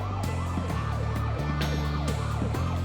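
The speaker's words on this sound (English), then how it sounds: "He would have been tipped off by the sirens." A loud police siren wails continuously, its pitch stepping up and down in a steady repeating pattern.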